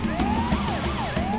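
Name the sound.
ambulance siren in video game GTA 5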